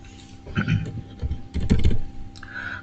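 Close-up clatter of a computer keyboard as a terminal command is typed, uneven bursts of key presses with short pauses, no talk.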